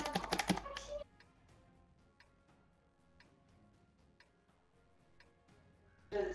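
Clicks from the scroll wheel of a Logitech G500S mouse, a steady series of light, evenly spaced ticks, faint and close, after a short loud burst at the start and before another at the end.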